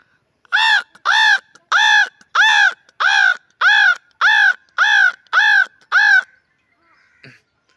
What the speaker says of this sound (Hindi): एक कौवा बोल रहा है